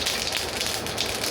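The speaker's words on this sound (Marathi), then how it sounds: "मोहरी छान तडतड द्यायची आपल्याला" Mustard seeds crackle and pop in hot oil for a tempering, a dense, steady sizzle of quick close snaps with no talking.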